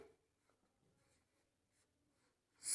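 A pen or pencil scratches across paper in short, quiet strokes with small pauses, close and faint, during a children's Hindi writing lesson, ending in a brief louder rustle.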